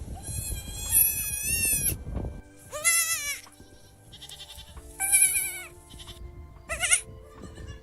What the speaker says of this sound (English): A pocket goat.